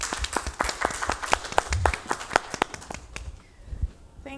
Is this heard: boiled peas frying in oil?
no